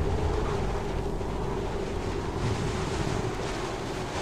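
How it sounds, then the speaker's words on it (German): Wind picks up in the snowy landscape of the video game Kholat, a loud, dense and steady roaring rush with a low rumble, continuing without a break and with no speech over it. "Oh, jetzt zieht der Wind an."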